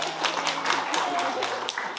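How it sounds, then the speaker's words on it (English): Audience at an online variety show gives a round of applause, brisk overlapping claps at moderate volume with a voice partly talking underneath. "A round of applause for yourself."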